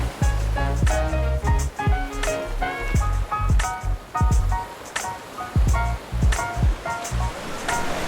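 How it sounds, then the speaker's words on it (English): Ocean waves breaking around a rock on a beach at Tayrona Park, Colombia, loud and repeated surges of splashing water with clattering pulses, heard alone without talk. "you can rent one of these hammocks and actually sleep here with the waves crashing all around you"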